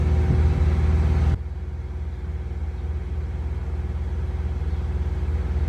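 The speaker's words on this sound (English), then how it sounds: "So of course we're gonna fire it up now, show it drive" A 1980 Chevrolet Malibu with a 6.0L V8 rumbles loudly, then settles abruptly after a second into a steady, throbbing idle, close and without talk.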